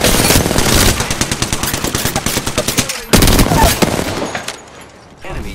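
Gunfire in Apex Legends: loud, rapid automatic bursts rattling almost continuously, with a brief pause before another heavy volley, then the shooting thins out.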